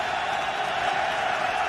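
A deafening stadium crowd roars steadily at an Eagles football game, a loud unbroken wash of cheering and shouting that holds at an even level throughout.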